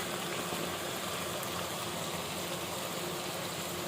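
Potatoes go into a pot of simmering chicken curry for a bachelor-style Iftar or Sehri dish, giving a steady, even hiss and bubbling sizzle that holds throughout without any talk.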